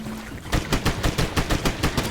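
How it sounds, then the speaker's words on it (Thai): Rapid automatic M16 fire in the Swamp Attack video game, a steady string of about eight sharp shots in quick rhythm over a low ambient bed, loud and close with no talk. "เราลองใช้ M16 ดูไหมมันยิงระยะไกลได้หรือเปล่า"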